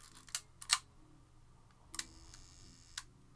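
Kodak Retina IIIc camera handled and fired, several crisp mechanical clicks of shutter and lever, a pair close together early, then single sharp ticks spaced apart, close and quiet.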